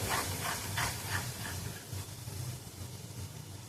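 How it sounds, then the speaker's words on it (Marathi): Masala roasts in oil over a low gas flame for mutton rassa, producing a steady, close sizzle and hiss with gentle bubbling pops that stays even throughout. "तेल सुटेपर्यंत मसाला चांगला तेलात आपण भाजून घेणार आहोत स्लो गॅसवरती"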